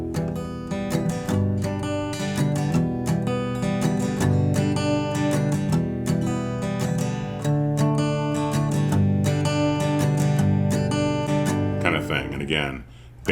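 Acoustic guitar plays a song's chorus in a hybrid style, plucked bass notes mixed with down-up strums, close and bright in a steady pattern, ending with a short scrape and a brief pause.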